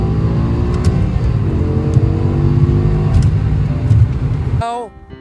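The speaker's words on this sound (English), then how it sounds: "at this point, the F10 is pretty much in full stride and continues to hold that pull that lead on the E60 right behind me here." BMW F10 M5 and E60 M5 saloons accelerating hard at high speed, a loud sustained engine roar with rising tones that cuts off abruptly near the end.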